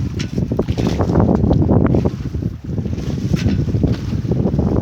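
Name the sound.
mild wind while sailing on Puget Sound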